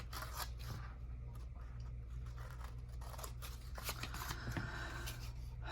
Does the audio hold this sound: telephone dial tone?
no